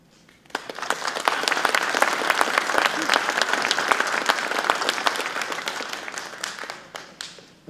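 A round of applause at a general election meet-the-candidates event in West Valley City: close, dense clapping that starts abruptly, holds steady and fairly loud for several seconds, then tapers off near the end.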